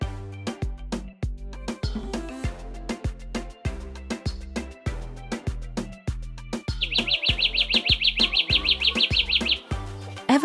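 An evergreen forest warbler in Kenya sings a rapid, high, repeated trill for several seconds, heard over a steady, loud rhythmic percussive beat.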